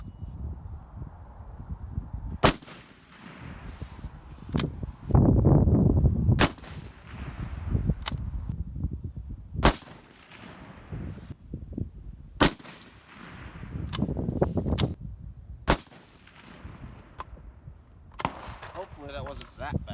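Sharp rifle shots from a 1903 Mark I military surplus rifle ring out at a 100-yard range, about a dozen loud cracks spaced a second or more apart, with rustling and handling noise between them.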